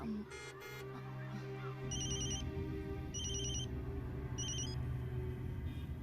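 A telephone rings in repeated electronic bursts after a call is placed, three clear rings spaced about a second apart over a low rumbling background.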